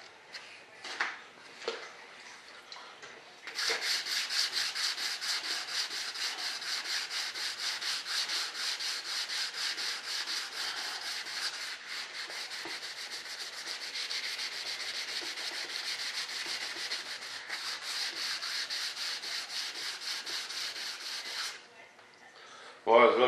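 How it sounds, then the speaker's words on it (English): Sandpaper rubs across a heavy primer coat on a model F-105 Thunderchief RC jet, a fast continuous back-and-forth scratching lasting nearly twenty seconds, close and steady, with a few light taps before and after. "Well, it'll look good after this sanding."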